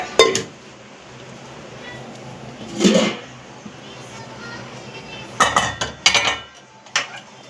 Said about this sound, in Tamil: அம்மா தக்காளி சோறு போட்டுக்கிட்டு இருக்கேன்